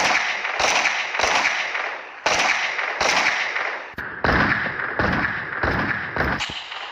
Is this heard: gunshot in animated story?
yes